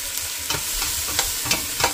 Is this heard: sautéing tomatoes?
yes